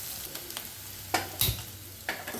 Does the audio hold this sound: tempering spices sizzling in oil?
yes